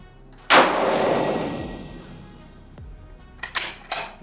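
A .308 Winchester rifle fires one loud, sharp shot at a shooting range during load development, and the report rings down over about a second. A few fainter metallic clicks follow near the end.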